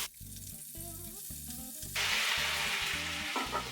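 Purslane goes into a pan of seared pork, and the steady sizzle jumps to a louder, hissing burst midway, then stays strong and close over a low rhythmic background.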